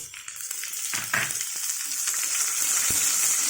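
Broad beans sizzling in a hot frying pan as they go in, steady loud frying hiss with a few stirring scrapes, close up, no talking.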